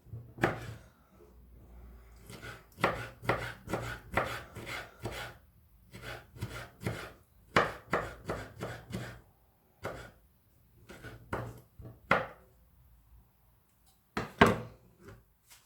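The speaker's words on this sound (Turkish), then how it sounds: "Bu şekilde doğramaya devam ediyorum." A knife chops softened dried apricots repeatedly on a board in quick bursts of sharp taps, close and clear, with short pauses between runs and a faint low hum underneath.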